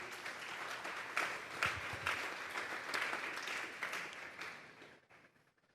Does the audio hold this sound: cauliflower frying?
no